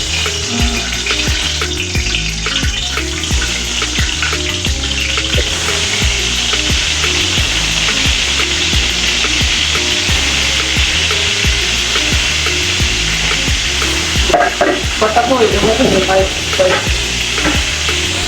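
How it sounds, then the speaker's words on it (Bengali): Fish pieces fry in hot oil in a kadai, with a loud continuous sizzle throughout and rhythmic scraping knocks, plus a brief louder crackle near the end. "মাছ স্টার্ট করেছে ফ্রাই করা।"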